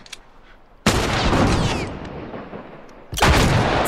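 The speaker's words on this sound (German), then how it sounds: "So, noch ein Schuss." Gunfire in The Last of Us, a loud burst at just under a second followed by sustained roaring reverberation, then another heavy burst of shots near the end.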